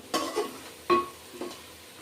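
Chili powder frying in hot oil with a low sizzle beneath three short scraping stirs of a spoon against the pan, spaced unevenly over two seconds.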